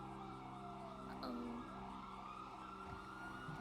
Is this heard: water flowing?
no